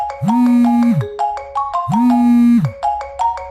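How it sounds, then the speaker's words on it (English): A phone ringtone playing a loud, clear melodic electronic tune, repeating its phrase twice with a low sustained tone under each pattern. "There my phone rings. Oh, that's my ringtone."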